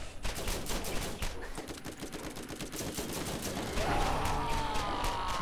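Rapid gunfire in Borderlands aimed at a skag, a dense run of closely spaced shots firing continuously under a constant combat wash, with a rising whine near the end.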